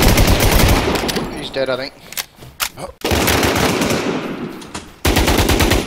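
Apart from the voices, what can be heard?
gunfire in the video game Infestation: The War Z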